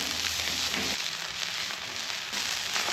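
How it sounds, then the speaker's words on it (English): Pork chorizo frying in a hot pan outdoors, a steady broad sizzle and crackle that holds level throughout, fairly close and with no talking. "Let the pan heat up, and then we'll throw in the chorizo."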